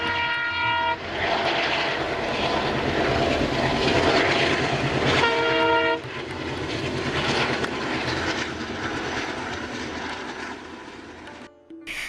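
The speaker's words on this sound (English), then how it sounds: "Today we are the passengers in an air-conditioned coach of Sabri Express, the train that runs between Hyderabad and Trivandrum" Inside an air-conditioned coach of the Sabri Express passenger train, a loud steady rumble and rush of running carriages fills the space, with a horn sounding twice in long tonal blasts before the noise drops away near the end.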